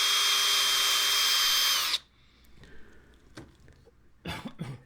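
A power drill boring pilot holes for hardware in maple boards in a shop, a loud steady whine for about two seconds that cuts off abruptly, followed by quieter shop handling noises and a few knocks.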